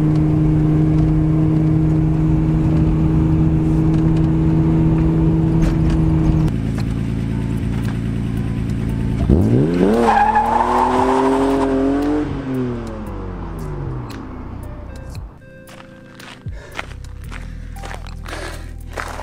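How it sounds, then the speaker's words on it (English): An engine idles, then revs rising and falling in one long surge, from a 221k-mile BMW E36 M3 doing a burnout, heard close with tire noise under it before the sound drops away and faint clicks follow. "let's go find a spot to do a burnout."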